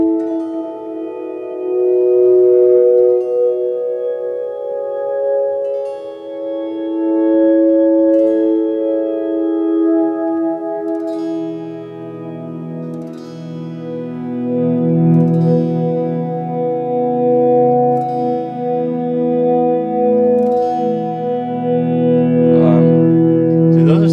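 Guitar swells soaked in delay and reverb, slow rising tones blooming and overlapping in a washy, sustained wall of sound that stays loud throughout, with no talking.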